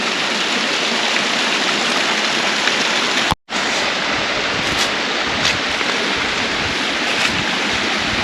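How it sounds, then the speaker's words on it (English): A waterfall at Prompton State Park pours steadily, a dense and loud rushing hiss of falling water that continues unbroken apart from one momentary dropout. "This waterfall keeps on going."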